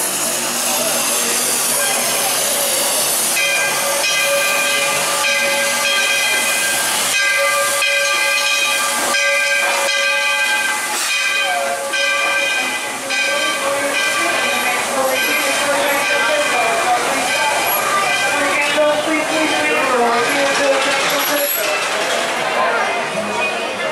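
The Walt Disney World Railroad steam train at the Magic Kingdom gives off steady loud hissing and steam, with sustained whistle-like tones and clanking, close by; a voice speaks over it.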